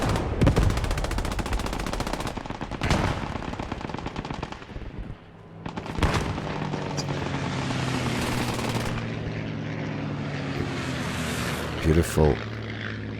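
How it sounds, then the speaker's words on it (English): In a video game battle, an aircraft makes a loud strafing pass with rapid machine-gun bursts over a droning propeller engine that rises and fades. A commentator speaks briefly over the action. "strafing run coming down in the middle of the cap"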